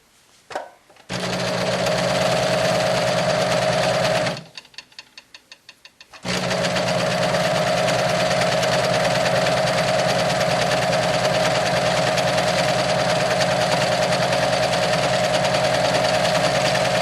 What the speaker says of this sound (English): then we're going to move over to our cover stitch machine